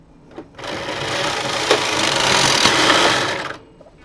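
Knitting machine carriage, run with floppy-drive pattern selection, pulled across the needle bed in one continuous rattling, clattering sweep lasting about three seconds, loud and close, beginning and ending abruptly.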